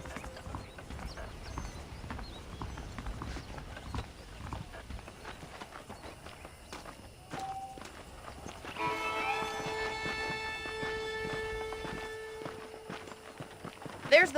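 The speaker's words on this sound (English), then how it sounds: "The horses are saddled up over here" Horse hooves clip-clop steadily at a walking pace in the Western video game Red Dead Redemption, mixed with game ambience and a voice talking. A brighter tonal passage joins partway through.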